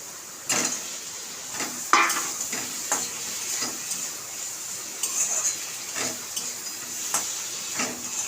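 Spices with turmeric, chilli and ginger-cumin paste sautéed for a tilapia fish curry, giving a soft steady sizzle punctuated by regular spatula scrapes and knocks against the pan, about one every second, close and clear.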